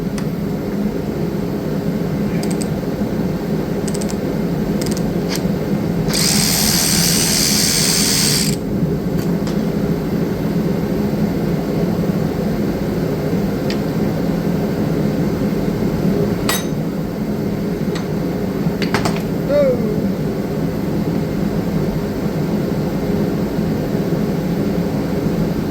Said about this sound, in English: Loud noises. Sorry, the heat's on.